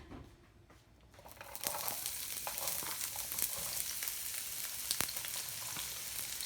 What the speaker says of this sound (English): we're going to fry off our onions and other green vegetables